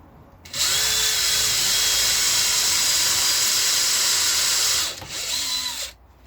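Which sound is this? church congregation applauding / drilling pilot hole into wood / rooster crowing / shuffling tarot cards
drilling pilot hole into wood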